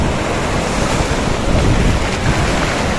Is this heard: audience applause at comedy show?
no